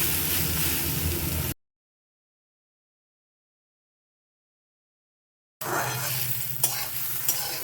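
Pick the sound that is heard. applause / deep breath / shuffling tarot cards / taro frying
taro frying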